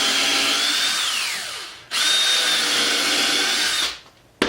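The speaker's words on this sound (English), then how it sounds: "I'm going to drill out 2 holes here and here and add 2 screws." A power drill with a number 6 countersink bit whines steadily into wood for drawers, slows and winds down, then spins up again for a second hole before stopping, close by.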